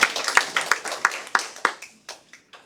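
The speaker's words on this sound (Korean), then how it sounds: "박수 한번 쳐주세요" An audience claps at a church blessing-education session, sharp hand claps thinning out over a few seconds into scattered last claps, close and moderately loud.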